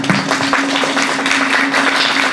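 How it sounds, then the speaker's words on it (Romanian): An audience at a children's festival award ceremony claps steadily, a dense, even patter of many hands filling a hall, loud and close, with a faint steady hum beneath. "deci puteți să aplaudați mai cu forță"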